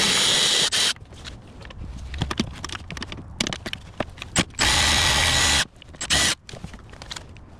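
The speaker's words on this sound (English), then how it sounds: "I'm going to be using my electric ratchet with a 10mm socket to remove 4 nuts" An electric ratchet with a 10mm socket removes nuts on a 2012 Dodge Journey SXT 3.6L engine, giving loud, close whirring bursts of a second or so between clicks and handling clatter.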